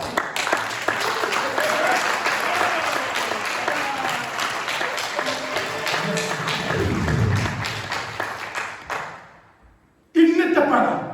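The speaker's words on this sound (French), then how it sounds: "J'ai envie de dire que votre acclamation est timide." Church congregation applauding and cheering at an evangelical service, a dense, loud wash of clapping with voices mixed in that fades out near the end before a brief burst returns.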